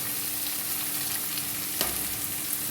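Onions fry in a pan while being stirred and pressed down, a constant close sizzle with a single scraping knock partway through.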